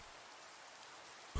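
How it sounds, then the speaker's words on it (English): Steady rain falls in the video game Minecraft, a constant broadband patter and hiss with no talk, holding level throughout before a brief louder thump at the very end. "Rain! Again, at least once an hour, but better than once a Minecraft day."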